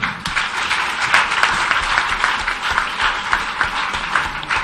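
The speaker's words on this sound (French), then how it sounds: "Et je vais vous demander d'applaudir pour les femmes." Audience applause honoring women at a Senegalese teachers' network gathering, a steady wash of many hands clapping throughout, fairly close and continuous with slight swells.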